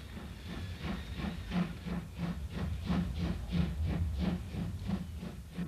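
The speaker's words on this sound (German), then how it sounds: "Wer jetzt aber glaubt, damit sei die Dampflokparade vorbei, der irrt." Steam locomotive at a parade in Riesa, chuffing in a steady rhythmic beat of repeated exhaust bursts over a low rumble, moderately distant, with no voices.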